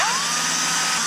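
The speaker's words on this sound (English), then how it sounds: "So I'm gonna pre-drill all these like that one." A power drill pre-drilling screw holes for a front lip on an NA Mazda Miata, one steady close whine that holds a rising tone for about a second without talk.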